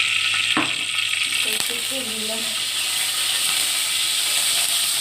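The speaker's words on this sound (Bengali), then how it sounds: "এরপরে আমি কড়াইতে তেল দিয়ে দিচ্ছি" Hot oil sizzling steadily in a kadai (wok) as frying gets underway, a broad continuous hiss with a brief clatter near the start and a short spoken word partway through.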